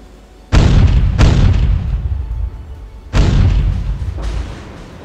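Battleship gunfire and shell explosions in the Naval Art video game, Yamato against Iowa: four loud, deep booming blasts in two close pairs, each with a rumbling tail, no talking.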